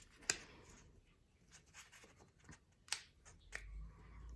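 Paper being folded into a fortune teller: close, soft rustles and crisp creasing crackles in scattered bursts, with a few sharper snaps standing out, and no talking.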